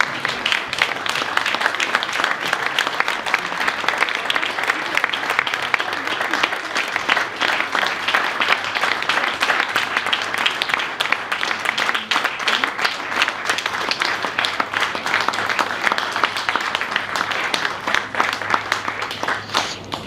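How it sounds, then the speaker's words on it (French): Sustained audience applause at the close of a corporate event, many hands clapping densely and evenly for about twenty seconds, loud and continuous from a sizable crowd. "Vous pouvez continuer à applaudir."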